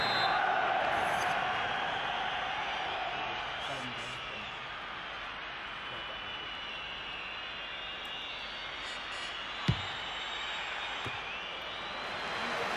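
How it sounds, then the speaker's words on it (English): Stadium crowd noise from FIFA 15 career mode, AFC Wimbledon at home after a corner: a steady, broad roar of supporters throughout, with one brief sharp thump near the end. "Well, that's kept the home crowd happy."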